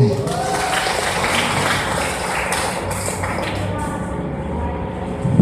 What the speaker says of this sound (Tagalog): Pumalakpak ang mga gising.